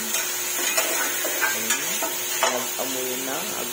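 Black beans and pork being stirred in a pan, a steady scraping and light sizzle with several distinct stirring strokes, close and moderately loud, no talking.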